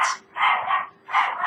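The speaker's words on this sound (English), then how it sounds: "That's my dog." A pet dog barks twice in quick succession, close and loud, with a short pause between the sharp, yappy barks and no talking.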